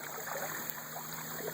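Shallow creek water runs over big sandstone rocks and chunks at an old train bridge site, a steady soft trickling babble that continues evenly throughout, close by and fairly quiet, with no voices.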